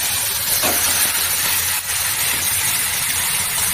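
Cabbage dropped into a hot pan over a spiced masala, giving a loud, steady broadband sizzle and hiss that continues throughout with a brief dip midway.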